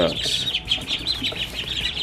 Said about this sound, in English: So these duckies over here making some noise.